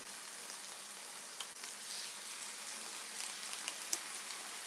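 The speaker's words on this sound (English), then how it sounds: "You hear it sizzling? That's what you want." Steaks sizzling in a hot pot for homemade hibachi: a steady, bright hiss with fine crackles running throughout, fairly quiet and with no talking.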